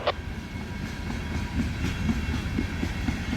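A short CN freight train rumbles steadily past at close range in winter, with low rolling noise and repeated rhythmic clacks of wheels over rail joints.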